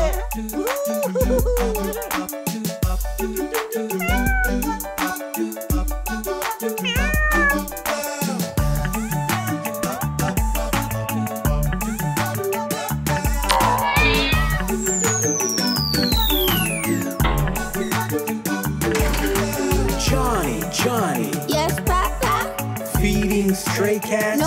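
Cartoon cats meow repeatedly over a bouncy nursery rhyme song with a steady beat and sung melody, the meows standing out clearly against the music throughout.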